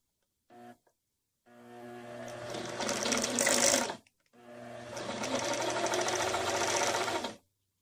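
A sewing machine winds thread onto a bobbin: a short blip, then a steady, close mechanical whir for about two and a half seconds, a brief pause, and a second equally steady run of whirring.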